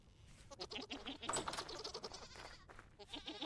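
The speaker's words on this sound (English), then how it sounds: "let's feed some more of these goats" Goats in the Vintage Story survival game bleat repeatedly in a busy run of short cries, close and fairly loud, overlapping one another with no speech.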